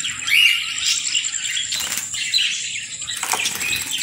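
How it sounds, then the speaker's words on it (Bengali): Many budgerigars in a bird shop flap their wings in a dense, fluttering rush, with bursts of louder flapping rising over the constant whir and occasional faint chirps. "আর এদিকে পেয়ে যাবেন অসংখ্য বাজরিকা পাখি,"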